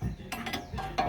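A wrench ratchets in quick clicking bursts, tightening a nut on a Jeep Commander during a lift spacer installation, close and brief.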